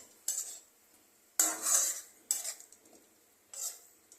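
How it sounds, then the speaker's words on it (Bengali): A spoon scrapes and clatters against a pan while fish curry with a little water is stirred, four separate bursts of stirring with short quiet gaps between them, close and clear. "অল্প অল্প জল দিয়ে জিনিসটাকে নাড়াতে হবে।"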